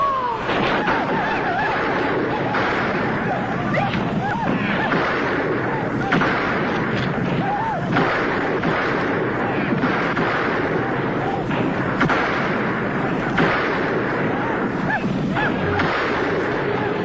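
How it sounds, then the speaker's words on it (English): Rifle fire in a 1965 Western television drama, with repeated sharp shots cracking through a loud, dense wash of action noise and commotion. "Mrs. Hemingway, use that rifle!"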